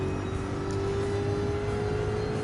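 Lamborghini Urus engine racing in the video game Gran Turismo 7, a sustained droning engine hum with a steady tone, loud and even, with no voices.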